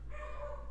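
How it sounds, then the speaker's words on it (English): A dog barks at someone in a home while a gaming PC is shown, the short sound held fairly steady and moderately faint over a constant low electrical hum. "that's my dog barking at somebody"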